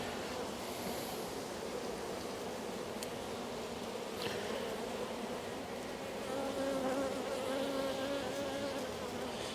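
Honey bees hum in a steady, dense drone around a hive at the Haselor apiary, close and continuous throughout with no talking.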